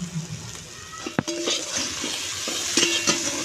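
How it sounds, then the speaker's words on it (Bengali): Spices with ginger, chopped tomato and chilli paste sizzle in a pan with a splash of water for a chanda fish curry, a bright frying hiss broken by a few sharp clinks of stirring. "অল্প মশলার জল দিয়ে কষিয়ে নেব।"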